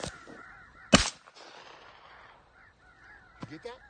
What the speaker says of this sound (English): Other crows.